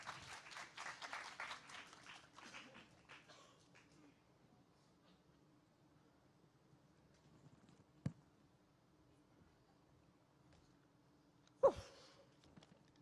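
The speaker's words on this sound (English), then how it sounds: "Please give one more round of applause for Indira," Applause from an audience at a poetry open mic swells at the start and fades out over about four seconds, followed by near silence with a couple of isolated knocks or bumps.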